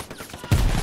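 Machine gun fire in the video game Hell Let Loose: a sudden loud, close burst of heavy shots erupting after a quieter, rumbling moment, with no talk.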